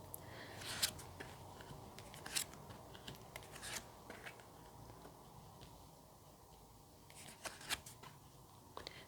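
Tarot cards are shuffled and laid out on a surface, giving quiet, close flicks and riffling snaps in irregular bursts against a faint background hiss.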